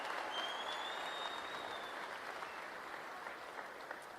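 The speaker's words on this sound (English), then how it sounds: "Give her a round of applause." A rally crowd claps in a sustained, fairly distant burst of applause, dense and even, slowly fading slightly over a few seconds, with a faint whistle or cheer mixed in early.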